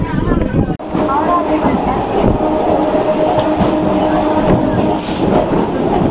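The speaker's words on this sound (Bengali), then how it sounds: "এই শেওড়াফুলি ঢুকছে ট্রেন আমাদের।" Local train slows into Sheoraphuli station, heard from inside the coach as a loud rolling rumble with clattering wheels and a brief high squeal near the end, with voices and station chatter over the noise.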